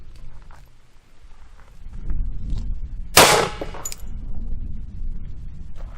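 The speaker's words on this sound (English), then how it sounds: "Miss LEO 45 is going to shoot clear ballistics gelatin with some duty Federal HST ammunition." A single sharp, loud shot from a .45 ACP pistol firing Federal HST duty ammunition into a block of clear ballistics gelatin cracks out midway, followed by a short metallic ring, with quiet outdoor background before and after.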